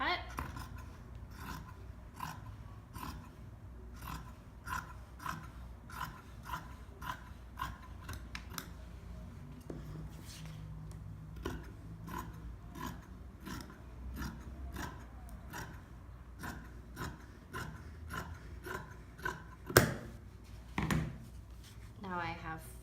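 Scissors snip through t-shirt fabric in a steady run of close, crisp cuts, dozens of short clicks spread across the stretch, with a low room hum underneath and a couple of louder snips near the end.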